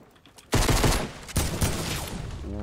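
Rapid automatic gunfire in the video game Fortnite, a loud sustained burst that starts abruptly after a quiet moment and continues with dense rattling shots and a clipped echo.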